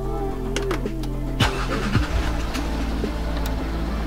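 A Land Rover Discovery engine cranks and catches, with a whirring starter and rising tones before settling into a steady low idle rumble, close and fairly loud.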